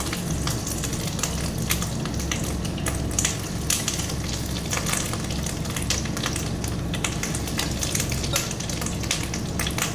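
Fish roe fritters (bora) fry in hot oil, a dense, steady sizzle with crackling pops running unbroken and fairly loud throughout.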